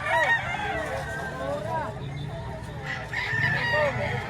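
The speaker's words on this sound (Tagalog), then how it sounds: "Ang dami manok sa kanila." Chickens cluck and a rooster crows nearby at a livestock auction market in Lipa City, its call rising and falling twice, with a voice talking faintly underneath.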